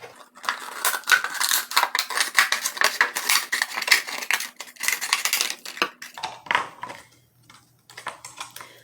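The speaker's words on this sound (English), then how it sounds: "So then I'm going to cut this portion apart from this top portion." Scissors snip through material to separate the curved lower piece from the top of a ladybug flower pot craft, giving a run of dense, close cutting and crunching strokes that thin out into a few sparser snips near the end, with no talking.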